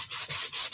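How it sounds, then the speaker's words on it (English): Sandpaper rubs back and forth on a piece of Retributor costume armor, giving quick rhythmic rasping strokes, close and steady with no talk. "Chan, is that you rubbing? I'm sanding"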